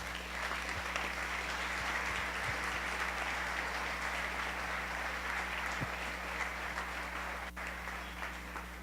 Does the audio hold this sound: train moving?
no